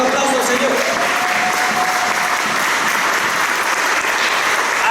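Applause from a church congregation fills the room for the Lord, a steady, dense wash of clapping throughout with a sustained tone faintly beneath it.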